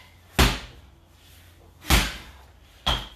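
Three heavy slam-ball impacts on a concrete floor during a bootcamp workout, sharp loud thuds spaced about a second and a half then one second apart, with quiet background between them.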